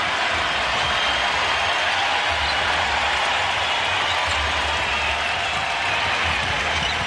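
A basketball arena crowd roars and applauds for the Philadelphia 76ers against the Washington Wizards, a dense, sustained wash of cheering and clapping filling the whole span at steady loudness.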